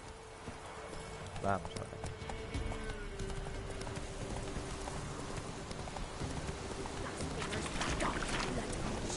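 Horse hooves clip-clopping in The Witcher 3, moderate hoofbeats under a soft ambient wash with a brief whinny-like call early on, while someone speaks over it.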